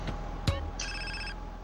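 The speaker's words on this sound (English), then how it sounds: "Oh, cell phone call." A cell phone rings inside the video game GTA San Andreas, with a brief electronic ringtone burst of bright tones over low background game hum.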